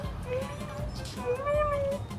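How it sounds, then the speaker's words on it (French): A small kitten meows twice, rising then falling, thin and close, over background murmur and some talk, apparently at a boxing match venue in Thailand. "regardez le petit chat"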